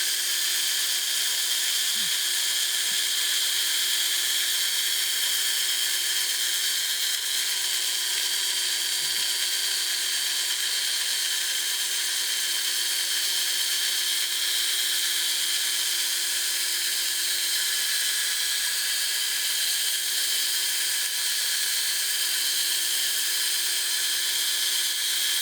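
A power drill spins steadily while sanding a turned wooden bowl, a constant high-pitched whine that holds unbroken throughout, close and loud.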